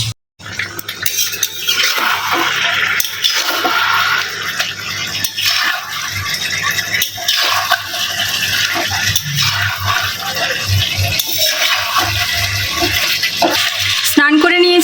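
Water runs continuously during a bath, a loud, close, steady rush with small splashes and clatter throughout.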